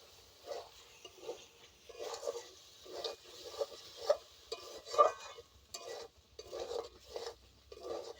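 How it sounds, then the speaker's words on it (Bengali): Spiced fried potatoes stirred in a pot over a clay stove for chicken biryani, a rhythmic scraping of a spoon against the pot roughly every second, soft and close with faint sizzling. "সুন্দরভাবে সব কিছু কষে নিচ্ছি।"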